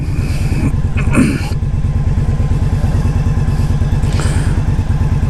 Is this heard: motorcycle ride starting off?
yes